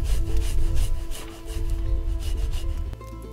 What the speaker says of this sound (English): I'll grate in 3 cloves of garlic.